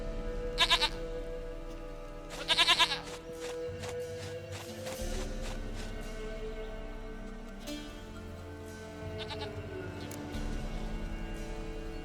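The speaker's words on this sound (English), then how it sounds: "Goat of mine, dearest, sweetest goat." A goat bleats in The Witcher 3: Wild Hunt with a few sharp, wavering cries, two close together early and another near the end. Soft game ambience and faint footsteps run underneath.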